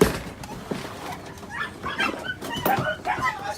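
Rescued puppies at an animal rescue yip, whimper and give short high barks in a scattered, irregular run, fairly close, with steady background noise underneath.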